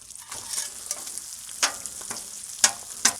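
Bacon sizzles on a Blackstone flat top griddle, a steady close frying hiss broken by a few sharp pops and spatters, with no talking.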